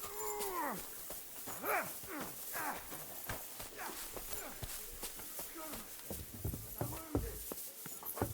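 Mutt, a dog in the medieval game Kingdom Come Deliverance 2, gives repeated short barks and whining yelps. Hollow horse hoof clops and footsteps sound around it at moderate volume.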